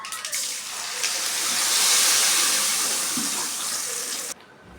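Ground chili and lentil paste poured into a hot pan of oil where mustard seeds and lentils are popping: a loud, rushing sizzle that swells, holds for several seconds, then cuts off abruptly to a faint hiss.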